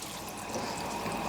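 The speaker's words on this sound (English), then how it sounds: "And I'll add a little water to it" A little water is poured over gizzards in a cooking pot before boiling. A soft, steady splashing trickle sounds close by and continues evenly throughout.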